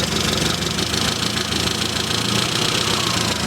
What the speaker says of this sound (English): So make sure that the engine is running at sufficient idle speed.